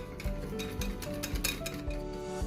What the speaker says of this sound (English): So keep stirring it like this for 1 to 2 minutes.